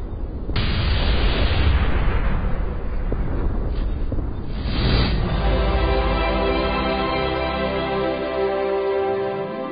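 Loud battlefield din from the Company of Heroes strategy game: distant gunfire, heavy explosions and booming artillery in a war-torn city, fading into a long ringing tail.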